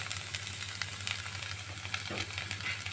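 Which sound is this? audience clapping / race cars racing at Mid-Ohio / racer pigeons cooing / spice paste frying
spice paste frying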